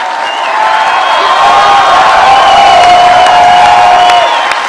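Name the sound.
crowd cheering and applauding for Rand Paul's parents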